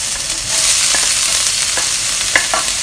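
Diced onion, garlic and ginger sizzle loudly in a pan for homemade Japanese curry, a bright steady hiss with several close scraping stir strokes and light utensil clicks.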